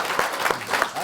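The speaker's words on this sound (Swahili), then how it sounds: "Hapo tulikuwa kuna makofi." Brief burst of audience applause at a Kenyan political comedy show, dense clapping that swells and fades within about a second.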